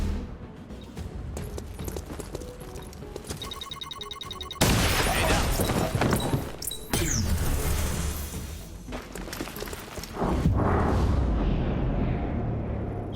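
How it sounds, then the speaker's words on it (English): Grenade blast and gunfire in the turn-based tactical game XCOM Chimera Squad during a breach, with loud broadband bursts around the midpoint and again near the end, layered over steady game music and combat noise. "Grenade out."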